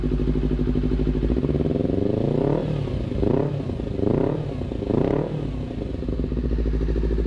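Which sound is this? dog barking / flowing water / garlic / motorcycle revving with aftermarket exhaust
motorcycle revving with aftermarket exhaust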